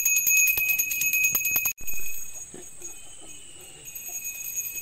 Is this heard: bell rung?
yes